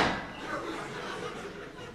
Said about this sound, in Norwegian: Slag inni pianoet.